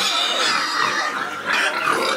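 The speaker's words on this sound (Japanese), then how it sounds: "豚の鳴き声は多いんですか？" Pigs in Bali grunt and squeal as a dense, noisy chorus of many animals close by, continuous and loud with no gaps.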